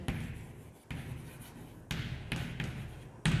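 Marker or chalk strokes on a classroom board while a parabola diagram is drawn, several close, scratchy strokes separated by brief pauses, with no voices.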